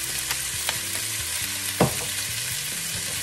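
Pepper steak sizzles in butter with cracked pepper as it is stirred, a steady fry with soft scraping strokes and one louder clatter midway, close and clear.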